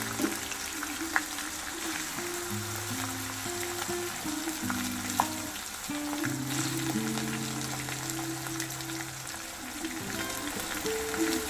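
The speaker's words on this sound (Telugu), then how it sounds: "బంగాళదుంప ముక్కలు ఫ్రై అయిపోయినాయి ఫ్రెండ్స్." Potato pieces, earlier soaked in salt water, fry in a pan for an Indian aloo fry, giving a steady sizzle with occasional stirring clicks, close and continuous, under tonal background sounds and no talk.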